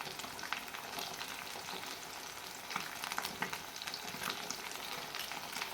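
Potatoes and eggs fry in a pan with black pepper and salt, giving a steady close-up sizzle with faint stirring scrapes throughout and no voices.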